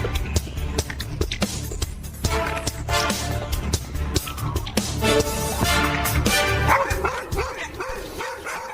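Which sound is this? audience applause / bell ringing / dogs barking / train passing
dogs barking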